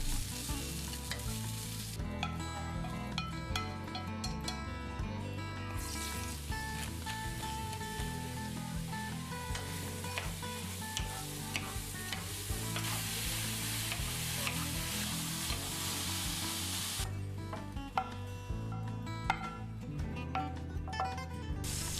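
Ingredients for Korean glass noodles are stir-fried in a pan: continuous close sizzling and frying with repeated scraping and stirring strokes, fairly quiet and with no voices.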